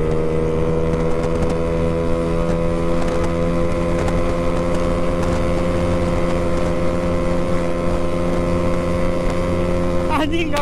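A Honda Beat 115cc scooter with an aftermarket racing exhaust runs at high speed with a loud, continuous, droning engine note and wind noise, heard close and steady throughout.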